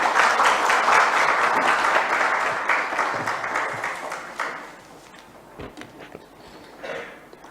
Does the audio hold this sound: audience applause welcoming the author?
yes